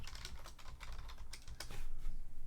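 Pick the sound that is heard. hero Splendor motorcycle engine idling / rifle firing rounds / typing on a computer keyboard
typing on a computer keyboard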